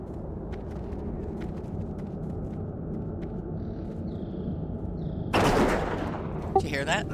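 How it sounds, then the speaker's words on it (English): A loud burst of video game gunfire erupts near the end as an undead squirrel dies, rising over a constant rumbling ambient background with no speech. "And it's all random when the gunshots come out, but it's really loud if you're right by the animal when it dies."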